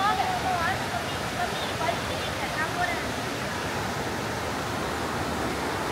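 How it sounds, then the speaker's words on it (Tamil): A rain-swollen river flows strongly, a steady broadband rush of water heard from a short distance, continuous and even throughout with faint high chirps over it. "கொஞ்சம் தூரத்தில் நல்ல தண்ணி சத்தம் கேட்க ஆரம்பிச்சிருச்சு. அந்த ரிவர் நல்லாவே ஓடிட்டு இருந்தது."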